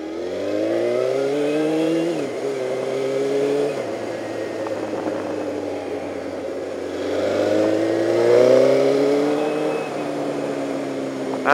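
A Suzuki GSX-R motorcycle revs high. The engine whines steadily with pitch sweeps rising and dropping as it accelerates, loud and close throughout.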